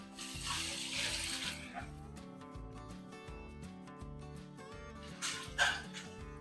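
Water pours in a brief hissing rush into a large pot of 3 kg chicken biryani, then again more briefly near the end, set against steady rhythmic background music.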